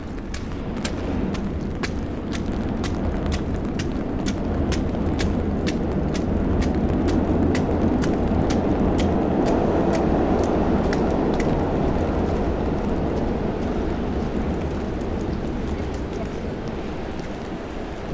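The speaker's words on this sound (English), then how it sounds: "I'm gonna make my footsteps louder" Footsteps walking through snow on a New York City street in the evening, a steady rhythm of crunchy steps over loud continuous traffic and wind noise.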